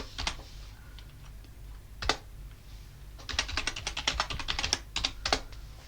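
Keys clatter on a computer keyboard as a terminal command is typed, a short burst, then a single tap, then a rapid run of close, crisp keystrokes.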